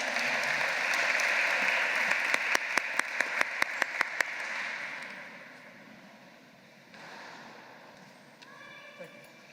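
Audience applause at a ceremony builds into a broad wash of clapping with a few sharp individual claps, then fades out over several seconds as a voice comes in near the end.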